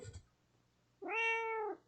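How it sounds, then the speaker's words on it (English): A house cat gives one clear, close meow lasting under a second, with a faint rustle before it in a quiet room. "Let's see if he meows at you guys."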